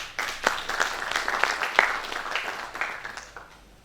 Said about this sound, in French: cela mérite un tonnerre d'applaudissements